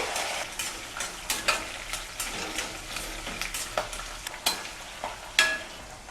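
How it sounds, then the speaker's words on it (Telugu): Green chillies and dried red chillies fry in oil in a pan over a low flame, giving a steady close sizzle broken by frequent sharp stirring scrapes and clinks of a utensil. No voices are heard. "ఇప్పుడు వీటిల్లోనే పచ్చిమిరపకాయలని ఎండుమిరపకాయలు వేసుకుని స్టవ్ని సిమ్లో పెట్టుకుని వేయించేసుకుందామండి"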